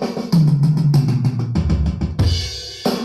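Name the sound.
normal drum roll without triplets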